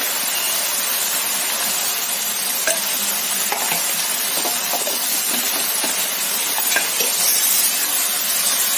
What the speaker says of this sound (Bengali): এইভাবে নেড়ে নেড়েই আমি শাকটাকে রান্না করে নেব।